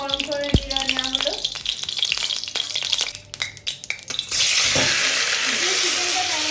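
Marinated chicken hitting hot mustard oil gives a loud, steady sizzle and frying hiss after some stirring and clatter at the start.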